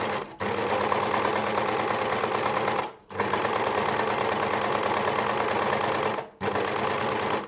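Sewing machine running steadily as fabric is stitched along a guide groove, three long continuous bursts of even mechanical whirring separated by brief pauses, close and alone.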